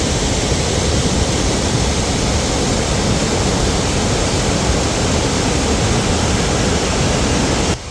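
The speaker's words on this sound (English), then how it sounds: "It is loud. That water is flowing hard." Paper Mill Falls in Avon, New York, running unusually heavy, gives off a loud, steady roar of rushing water heard up close. The broad, unbroken noise holds constant throughout with no voices over it.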